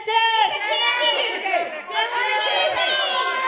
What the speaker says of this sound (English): Start cheering now.